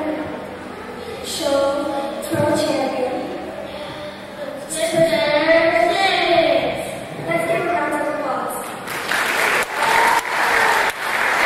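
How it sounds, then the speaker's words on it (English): Audience applause at a 2011 spring concert swells into a dense burst of clapping near the end, after stretches of people talking and children's voices. "Let's give a round of applause."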